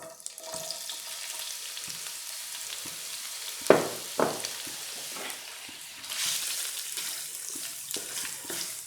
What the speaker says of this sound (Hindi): घी थोड़ा गर्म हो गया है, इसके अंदर किशमिश डालकर 30 सेकंड के लिए इसको फ्राई कर लेते हैं।